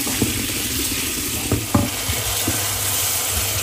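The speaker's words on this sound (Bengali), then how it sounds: "ডিমের মশলা কষানো শেষ।" Egg masala sautéing in a pan gives a continuous close sizzle, broken by a few sharp scrapes and knocks of a spoon stirring against the pan.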